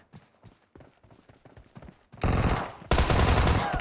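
Gunfire in the battle royale game PUBG: light, scattered shot-like clicks and taps at first, then two loud, dense bursts of automatic fire, the second cutting in abruptly and running to the end.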